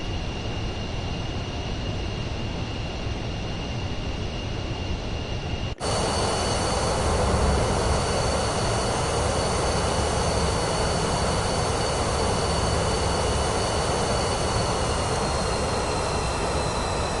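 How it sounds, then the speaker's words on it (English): An airplane engine drones in Microsoft Flight Simulator 2024 during a flight over Switzerland, a steady, dense roar that shifts once to a brighter, fuller tone and then holds evenly for the rest. "This plane is going too fast."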